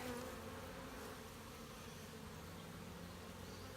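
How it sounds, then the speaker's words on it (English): Honeybees hum and buzz steadily around an open backyard hive, a dense, continuous drone of many wings close by with no pauses, faint and even throughout. "I got 2 bees on me. Please don't sting me."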